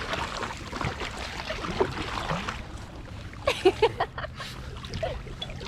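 A kayak paddled across the Firth of Forth out toward an island, with soft water swishes and a few sharper splashes from paddle strokes over steady wind and open-water ambience.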